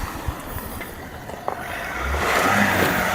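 A Toyota Land Cruiser or Land Rover Defender drives off-road, its engine humming steadily and then swelling louder as it revs and climbs, with broadband tyre and wind noise and no talking.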